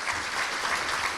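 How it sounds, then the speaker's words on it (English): Audience applause at a chamber of commerce awards evening in a country club venue, a dense, steady wash of many hands clapping throughout. "Let's give the Colonia Country Club a big round of applause."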